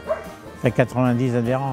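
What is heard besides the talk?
dogs barking at a dog club open day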